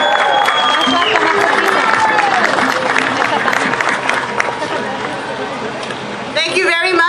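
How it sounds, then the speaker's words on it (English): A crowd at a march for justice applauds and cheers loudly, with continuous clapping and babble from many voices. Shouts rise over it, and a sharper burst comes near the end. "I would like a big round of applause for Councilwoman Nuri Martinez"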